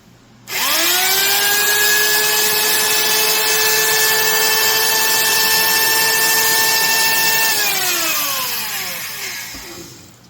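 A Stanley mini fixed-base trim router spins up sharply to a steady high-pitched whine, holds it, then winds down as the motor coasts to a stop.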